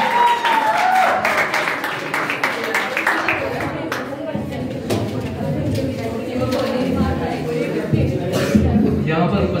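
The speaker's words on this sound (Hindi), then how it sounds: "एक बार सनी के लिए जोर से तालियां बजाइए।" Students and teachers at a school farewell ceremony clap for a student speaker, a loud crowd applause of dense, uneven claps mixed with murmuring voices and hall noise throughout.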